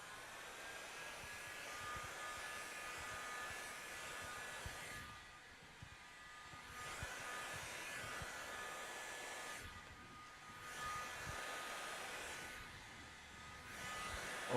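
A hot air gun heats a vinyl wrap film pressed into a recess to 90 °C, giving a steady broadband blowing rush that holds on and dips a little in level about every four seconds.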